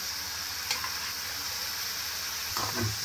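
Onions frying in a pan for a mushroom curry give a steady, soft sizzle with a couple of brief stirring scrapes, heard close and alone.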